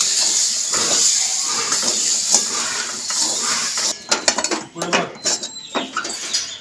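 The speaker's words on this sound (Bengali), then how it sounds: "ভালো করে নেড়ে চেড়ে ভাজতে হবে।" Dhokar dalna cooking: a pan of frying food hisses steadily, then a spatula scrapes and clinks against the pan in quick irregular strokes as the food is stirred, close and fairly loud.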